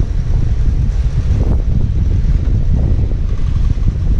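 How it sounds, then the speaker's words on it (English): Strong wind roars against the microphone on a downtown street in Olongapo City, making a loud, continuous low rumble with gusty buffeting throughout and no speech. "Well, lots and lots of wind."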